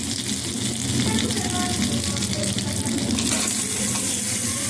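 Chopped garlic frying in butter alongside cooked pasta, a steady close sizzle with some watery hiss and stirring, continuous and fairly loud.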